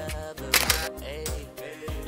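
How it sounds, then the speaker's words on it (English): Camera shutter clicks as someone snaps selfies, several sharp clicks spaced through the moment against a busy background. "I just want to take a selfie."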